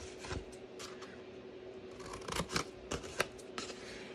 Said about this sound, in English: Then over here, I'm gonna cut these apart.